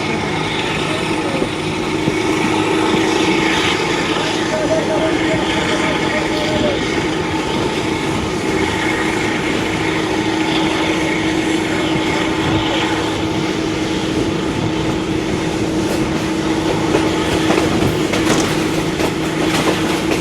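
Rehman Baba Express in Pakistan, heading out from Wazirabad Junction, rolls steadily along with a continuous loud rumble and rail noise throughout, carriage clatter under a constant low drone.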